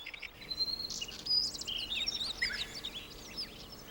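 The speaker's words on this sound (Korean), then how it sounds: "강마을에는 새들이 모여든다." Small birds chirp and call in a riverside village along the Nakdong River in spring, with several overlapping faint twitters against a quiet outdoor background.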